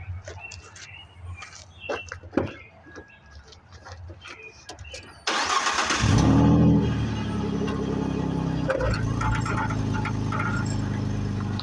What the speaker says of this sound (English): This is an F-150 truck.